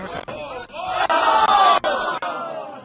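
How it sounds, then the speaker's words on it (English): A crowd at a Super Smash Bros. Melee match lets out a loud, sustained collective groan and shout, broken by a few sharp clicks, with voices mixed in. "Okay, the crowd's sad."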